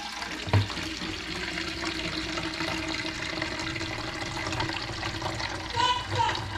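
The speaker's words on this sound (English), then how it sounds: "we're gonna drain it again after we put some fresh water through it" Water drains and splashes steadily from a Primo water dispenser being cleaned, a continuous close trickle and gurgle with a small knock near the start and slight swells toward the end.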